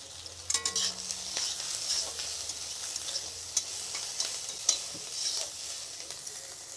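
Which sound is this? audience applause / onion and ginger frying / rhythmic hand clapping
onion and ginger frying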